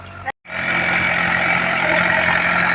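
After a brief cutout, a loud, steady tractor engine drones on continuously while harrowing a field nearby, without letting up.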